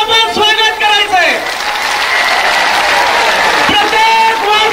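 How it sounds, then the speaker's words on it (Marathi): A big crowd at a Dussehra rally in Maharashtra welcomes Manoj Jarange Patil with loud applause, a dense, sustained wash of clapping that rises and holds throughout, with voices and a PA-style call ringing over it. "प्रचंड टाळ्या वाजून आपण स्वागत करायचंय"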